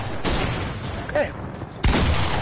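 Gunfire from a shotgun duel in a video game, with a loud sudden blast near the end and a broadband burst early on, over game ambience and faint speech-like sounds.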